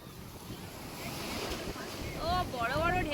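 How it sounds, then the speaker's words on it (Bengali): Big ocean waves surging and breaking on the beach at Digha, a continuous broad roar under wind buffeting the microphone, building louder toward the end with faint voices and tonal cries mixed in. "ও বড় বড় ঢেউ আসছে।"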